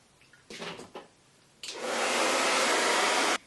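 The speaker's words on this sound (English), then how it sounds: "go over that with my blow dryer" A few brief rustles, then a hair dryer switches on and blows over a curly lace front wig with a steady, loud whooshing roar for nearly two seconds before cutting off.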